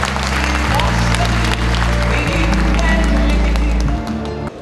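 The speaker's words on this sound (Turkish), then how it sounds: "Alkışlarınızla." Audience applause at an opening ceremony of Bitlis promotion days in Istanbul's Feshane hall as the governor is invited to the stage, a steady dense clapping over loud sustained music with a strong low drone throughout.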